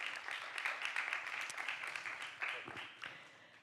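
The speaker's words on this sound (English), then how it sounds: "A big round of applause, please, for Gianluca." A congress audience applauds a speaker with a modest, steady round of clapping that fades near the end, quiet and somewhat distant, with faint voices underneath.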